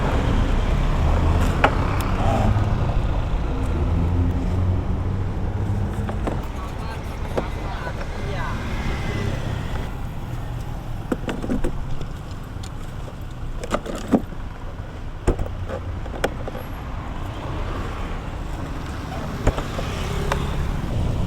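BMW R18 Roctane motorcycle riding on a real road, a steady rushing engine and wind roar with occasional clicks and knocks, close and fairly loud, while someone talks over it.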